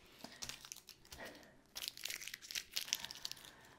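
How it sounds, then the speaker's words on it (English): Sticky tape being cut with scissors while making a pot cosy: close, fairly quiet crinkling snips and tearing rustles that come in irregular bursts, growing denser toward the end. "this tape, that sticky business is sticking to the scissors, so it gets harder and harder to cut them"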